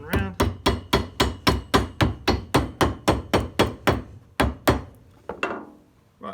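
Steady, loud hammer knocks strike a boot sole during restoration of a dog-chewed boot, around sixteen sharp, close blows in an even rhythm before a brief scraping rustle.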